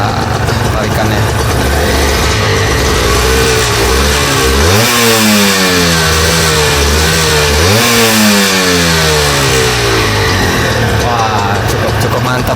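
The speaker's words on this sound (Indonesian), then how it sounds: "suara dari motor ya, Yamaha TZM ya" A rare Yamaha TZM 150 two-stroke sport motorcycle engine roaring loudly up close. It blips to a sharp high rev twice, then drops back toward a buzzing idle.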